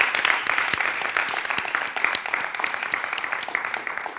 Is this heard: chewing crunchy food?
no